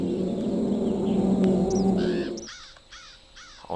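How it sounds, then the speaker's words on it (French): Ambient jungle soundscape from the Mega CD Jurassic Park game: a low droning rumble for about two and a half seconds, then repeated harsh crow-like bird caws ring out over quieter background, with no talking. "On entend des oiseaux, on entend le rugissement des brachiosaures"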